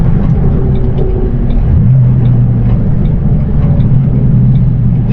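A 2006 Ford Roush Mustang GT with 80,168 miles drives along, its engine giving a steady low rumble that shifts pitch partway through, heard from inside the car with no talk.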